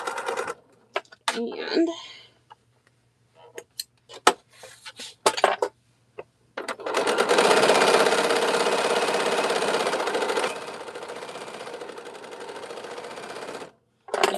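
Sewing machine quilting a Poppins bag, a sustained mechanical stitching hum lasting several seconds, with scattered handling clicks and a brief word from a woman before it starts.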